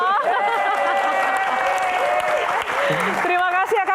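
A crowd applauds the Queen at a Q&A event, with steady clapping running under loud, tonal voices that cheer and call out the whole time.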